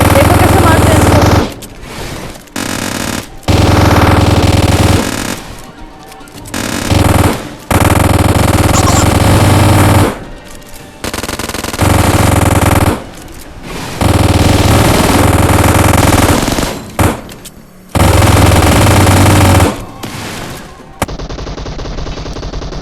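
Automatic weapon fire from a PUBG Mobile match, including a UMP, rattles in loud repeated bursts separated by short silent gaps, with some fire sustained for several seconds.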